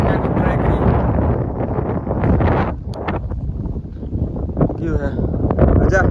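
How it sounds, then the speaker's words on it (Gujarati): Gusty outdoor wind roars and buffets the microphone steadily throughout while pigeons are flown, a dense, loud rumble with brief dips in strength. "આજે પાછું થોડાક પવન છે"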